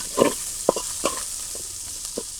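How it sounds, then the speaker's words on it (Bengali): Spices crackle in oil left from frying potatoes in a village kitchen, a soft steady sizzle with a few distinct scraping stirs of a spoon at irregular intervals, close by and moderate in level. "এই তেলে এখন আমি সব মশলা দিয়ে দেবো পিস কিছু দিয়ে দিলাম আলু ভাজার তেলের মধ্যে"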